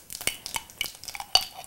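Ginger and garlic paste hitting hot oil with cumin seeds pops and crackles in sharp, irregular bursts close by, with small spitting clicks over a soft sizzle and no one talking.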